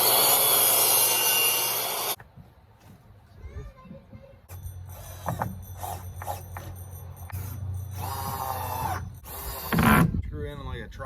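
Screws are driven into a 2x4 to fix it to a wooden post while rebuilding a wood shed, heard as short bursts of drilling and grinding wood between pauses, with a person talking nearby.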